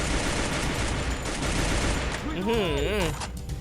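Rapid gunfire from the mobile battle-royale game Free Fire, a dense, loud burst of shots filling the clip, with a voice talking over the end.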